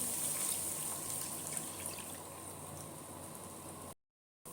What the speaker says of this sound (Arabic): وهضيف عليهم كوبايه لبن حليب،